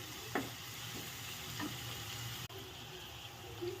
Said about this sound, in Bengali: এখন সবজিগুলো ভালো করে একটু ভেজে নেব।